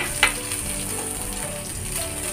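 Chopped ginger, garlic and cumin fry in a pan, giving a dense, steady close-up sizzle with a brief utensil knock near the start.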